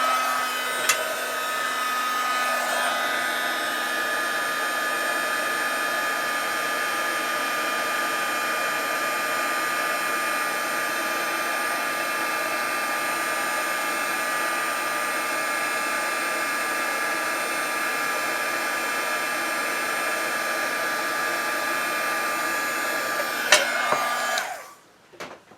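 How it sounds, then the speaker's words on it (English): Heat gun melting embossing powder in a crafting demo, a steady high whooshing blower hum running unbroken for over twenty seconds before cutting off abruptly near the end. "once you get that heat gun going, I don't want to be heating up my whole jar"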